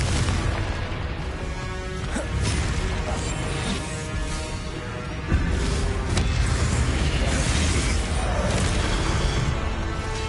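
The explosive Confringo spell goes off in a PS4 video game, a loud, dense wall of booming blasts and crashing debris that barely lets up, with one sharper burst midway.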